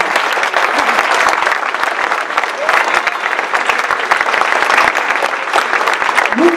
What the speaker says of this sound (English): give them a big round of applause for coming tonight